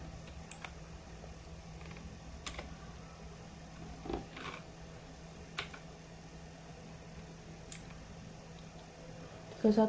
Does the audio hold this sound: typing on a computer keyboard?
yes